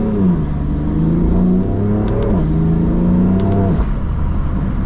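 A modified BMW F80 M3 engine revs hard and loud with a roaring intake note, climbing in pitch, dropping, then rising again across several seconds.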